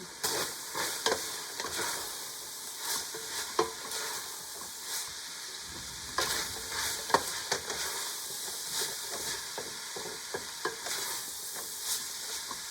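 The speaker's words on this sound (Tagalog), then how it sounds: "Iluto ko po yung pork. Ayan na po siya bawang." Pork and garlic fry in oil in a pan, giving a constant close sizzle broken by repeated scraping and clacking strokes as the meat is stirred.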